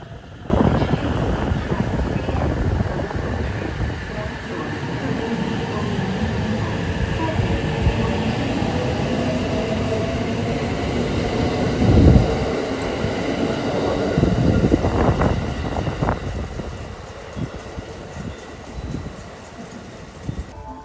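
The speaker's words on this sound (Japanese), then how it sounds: "北陸本線の米原方面はちょうど特急サンダーバードが発車するところでした" A Thunderbird limited express train on the Hokuriku Main Line rumbles and rolls steadily as it pulls away from the station toward Maibara, with rail noise building and fading and some wind buffeting the microphone.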